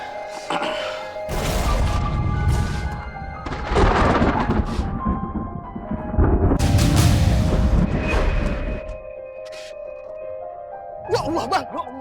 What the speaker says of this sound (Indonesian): Ngapa ada petir begini bang?